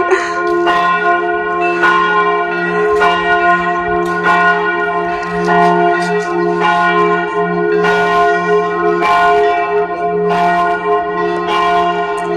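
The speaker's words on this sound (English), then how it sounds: "All the bells are chiming at different times." Church bells in a Tuscan village ring out at midday, several bells striking at different times in a loud, overlapping, steady rhythm of resonant chimes with no talking.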